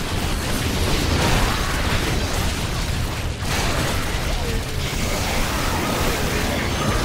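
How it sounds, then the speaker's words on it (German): Enemies burst apart on death in Orcs Must Die 2, a dense, loud wash of game explosions and clattering mechanisms that runs continuously with no clear gaps. "dann sterben, dann explodieren sie"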